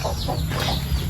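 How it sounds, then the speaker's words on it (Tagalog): Raised laying hens cluck nearby in a few short, throaty bursts over a low background hum. "Yung mga alagang manok din mga kabayan niya."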